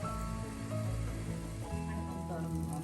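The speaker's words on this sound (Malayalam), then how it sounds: "ലോ ഫ്ലെയിമിലൊന്ന് വഴറ്റാം." Tomatoes sautéing on a low flame in coconut oil for a small king fish chilli curry, a soft steady sizzle with faint crackling, quiet and continuous over a few seconds, with steady humming and tonal sounds running underneath.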